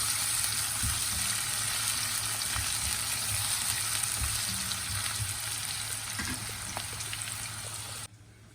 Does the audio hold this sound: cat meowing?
no